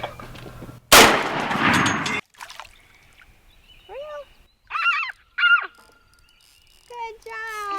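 A single sharp gunshot while hunting over decoys, loud and close with a brief tail, followed by quiet with scattered faint calls and splashing sounds.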